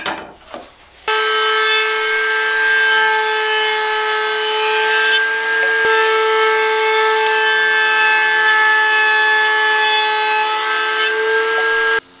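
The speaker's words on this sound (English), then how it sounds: "I'm just going to run it through the router table really quick like and round over the last side" A router table rounds over the edge of a wooden camera boom arm: a loud, steady high-pitched motor whine with a tonal hum that starts abruptly after a second and runs continuously until the end, with no talking.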